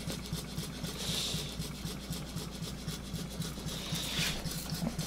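A small Stuart 4 model steam engine running on live steam at about one pound of pressure, a steady soft rapid chuffing rhythm with a faint background hiss, close and quiet.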